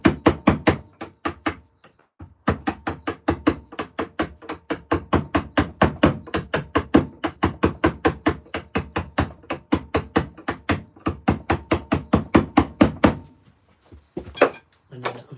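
A hammer strikes a chisel while stone is carved, delivering a long run of sharp, evenly paced close blows, each a bright ringing crack, pausing briefly near the start and again near the end.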